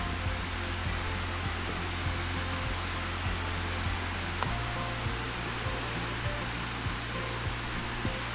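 Steady, dense rushing water fills the scene, a continuous broadband roar of a nearby waterfall on the Walls of Jericho Trail near Scottsboro, Alabama, with no voices over it.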